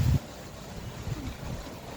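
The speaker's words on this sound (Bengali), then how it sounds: "অনেক বাতাস আছে, ঝড় উঠতেছে ঝড়।" Strong wind gusts as a storm begins on a rainy street outside a home, roaring as a rough rumble against the microphone after a brief loud buffet at the start.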